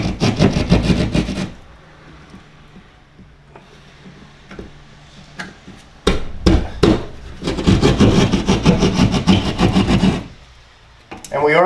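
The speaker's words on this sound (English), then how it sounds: "I find the sheetrock saw to be the best way to get in there." A handheld sheetrock saw cuts into a drywall wall, giving bursts of loud rasping, scraping strokes up close that stop and start, with a quieter stretch of light knocks and rustling between them.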